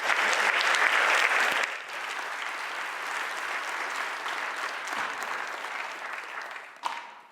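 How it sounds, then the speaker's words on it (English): Audience at an xTEF health consortium conference in Berlin breaks into warm applause, a dense wash of clapping that is loudest for the first couple of seconds, then holds steady and tapers off near the end. "please give a warm applause to everyone"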